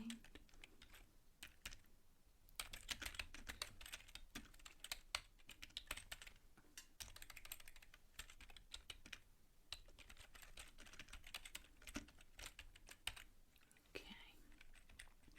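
Soft, close typing on a computer keyboard by someone with long nails, bursts of light clicky taps continuing for the whole stretch with brief pauses, quiet and intimate with faint whispering in places.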